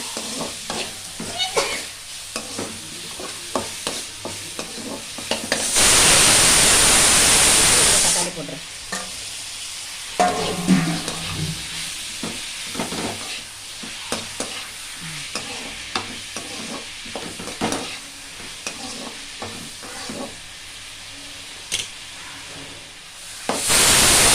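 Onions and tomatoes sizzle and crackle steadily in a hot pan, with occasional stirring scrapes and a loud burst of hissing steam partway through.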